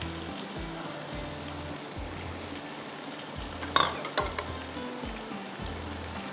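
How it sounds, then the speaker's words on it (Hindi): Chicken and potatoes fry in a pan while being stirred, a quiet constant sizzle broken by repeated scraping strokes and a couple of sharper clinks. "अच्छी तरह से आपने इसकी भुनाई करनी है"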